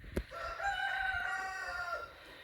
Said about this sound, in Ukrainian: Півень виспівує.